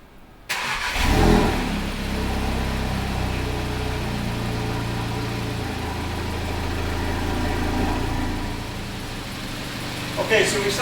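A car engine cranks and catches, revving briefly before settling into a steady mid-pitched idle, heard close in a workshop during a diagnostic test, with someone talking over the running engine.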